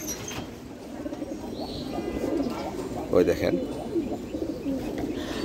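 Pigeons coo in low, repeated throaty murmurs close by, with someone talking over the birds throughout.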